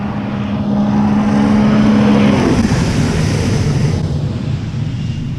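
A personal watercraft speeds across open water with a steady, loud engine drone and rushing spray, its pitch shifting as it swings through a tight turn around a pole.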